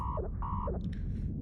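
A quiet electronic shield alarm in EVE Online pulses twice with a falling warble, followed by a short higher chirping blip over a low background rumble.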